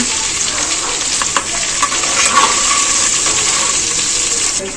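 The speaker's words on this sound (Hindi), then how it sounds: "इसको हल्का सा फ्राई करेंगे, बहुत ज़्यादा ब्राउन नहीं करना है, सिर्फ हमें इसे फ्राई करना है।" Potatoes for a tangy tamarind aloo dish sizzle and fry steadily in a pan of hot oil, a dense continuous crackle with occasional stirring scrapes, close and loud with no talking.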